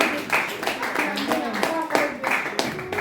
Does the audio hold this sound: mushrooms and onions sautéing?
no